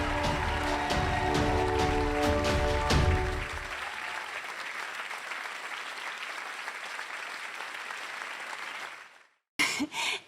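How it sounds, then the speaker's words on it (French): Applause for the Goguettes trio at a comedy stage show, a full crowd clapping loudly for about three seconds, then a long, gradually fading wash of claps that dies out before a brief final burst. "faites un tonnerre d'applaudissements aux goguettes"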